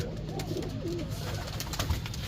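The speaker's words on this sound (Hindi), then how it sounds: "ये कबूतर है यहाँ पे" Pigeons of a flying breed coo softly and continuously in a home loft, low rolling calls repeating close by with no talk.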